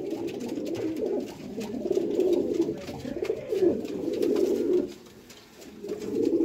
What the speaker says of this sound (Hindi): प्योर टैडी दोस्तों कबूतर ने